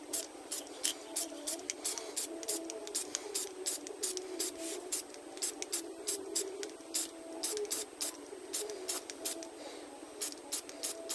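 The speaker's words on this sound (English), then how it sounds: "We're going to do a little bit of spray painting here." Rapid bursts of aerosol spray paint hiss onto a routed wood sign in short, rhythmic pulses, close and steady, with brief gaps between each spray.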